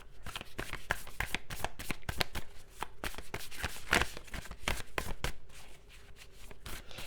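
Tarot cards being shuffled up close: a quick series of crisp riffling and slapping bursts in an irregular rhythm, fairly quiet with no talking.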